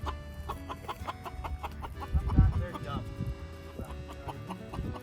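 Chickens cluck and murmur in a large chicken run, repeated short clucks close by and continuing throughout, with a person talking over them.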